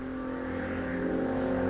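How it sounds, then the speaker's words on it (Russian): A moped engine drones steadily nearby, a continuous buzzing hum that grows slightly louder over a couple of seconds, with no talking. "И это уже мопед какой-то. Вон гудит, слышно."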